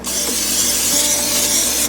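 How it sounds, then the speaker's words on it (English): A steady hiss of butter-flavored, zero-calorie cooking spray sprayed inside a waffle maker, one close continuous burst lasting under two seconds. "And now I am going to take this cooking spray"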